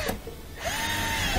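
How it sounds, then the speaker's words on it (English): A power tool drives a screw on a Frigidaire dishwasher's air gap, giving a short close burst of whirring motor noise that rises in pitch and holds steady for under a second. "Tighten up that screw."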